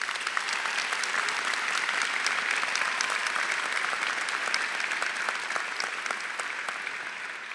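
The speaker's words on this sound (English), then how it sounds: "Let's give them the round of applause they truly deserve." Dense, sustained applause from a large audience at a university medical school commencement and hooding ceremony, a continuous wash of many hands clapping at steady loudness for several seconds.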